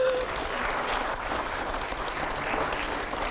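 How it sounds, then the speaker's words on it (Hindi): A TV studio audience gives a burst of applause, dense and even clapping that holds steady at moderate loudness for the whole stretch without speech over it. "जोरदार तालियां हो जरा।"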